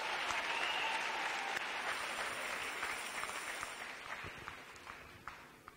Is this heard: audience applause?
yes